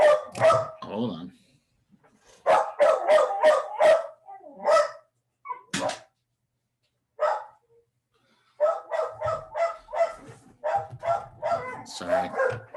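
A dog barks indoors in quick, loud bursts separated by pauses, with a clustered run of barks at the start and another near the end; a person's voice may be mixed in.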